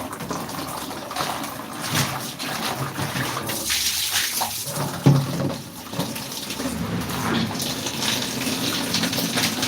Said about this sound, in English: Let's rinse them again.